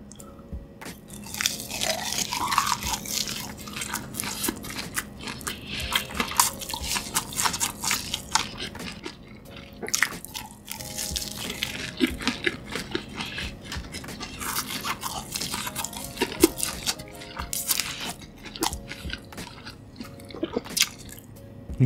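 Crunchy bites and wet chewing of a Takis-coated cheese stick, close and intimate, with repeated crisp crunches throughout and no talking.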